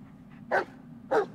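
Two sharp, close dog barks about half a second apart over a low background hum, from a dog in the video game Blair Witch.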